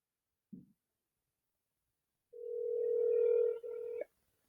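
A telephone call tone sounds after a faint click: one steady ringback tone lasting about two seconds with a brief break before it cuts off, heard alone in quiet.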